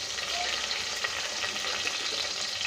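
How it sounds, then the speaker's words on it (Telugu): Vegetables for a veg pulao fry in a pan, producing a continuous, loud, dense sizzle heard up close, unbroken and without any talking. "సో ఇది బాగా ఫ్రై అవ్వాలి."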